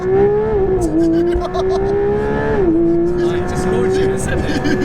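A Porsche 911 GT3 RS launching hard, its engine note holding high and steady, dipping briefly twice as it shifts and then pulling on, loud and close with voices talking over it.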